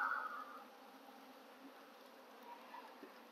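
Bees buzz faintly in a soft, continuous drone around an opened hive with brood frames and smoke, with a slightly louder hum at the start that fades into the background.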